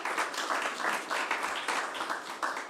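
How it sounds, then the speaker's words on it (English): Audience at a company's annual general meeting applauding a chairman, with dense, steady clapping from many hands heard close and continuous throughout. "Give him a round of applause for me,"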